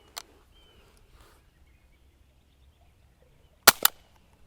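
A single Aguila Colibri .22LR round fired from a rifle gives a short, sharp crack with a quick echo, isolated in near silence after a faint earlier click.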